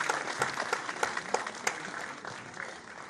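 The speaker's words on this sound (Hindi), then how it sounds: "तालियां नहीं रुकनी चाहिए" An audience at an appointment ceremony in Rabindra Bhavan, Bhopal applauding steadily, individual sharp claps popping out of a sustained wash of clapping hands in a large hall.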